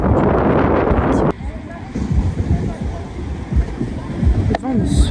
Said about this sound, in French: Le vent me saoule.